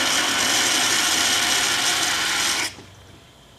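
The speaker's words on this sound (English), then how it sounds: "you can even hear these shock waves, which sound like gravel moving through a pipe." Water cavitating through a venturi fed from a pressurized tank makes a loud, dense, steady crackling rush like gravel rattling through a pipe, which cuts off abruptly near the end, leaving quiet.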